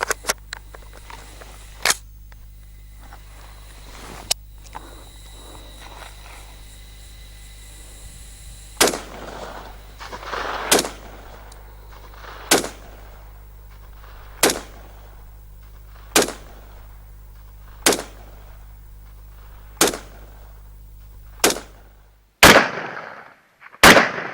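A Ruger SR-762 rifle fires about a dozen single shots at an unhurried, even pace, each a sharp loud crack with a short ringing tail over a low background hum, with a scrape of handling at the end.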